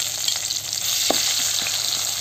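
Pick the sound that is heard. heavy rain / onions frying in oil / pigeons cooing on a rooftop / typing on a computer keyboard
onions frying in oil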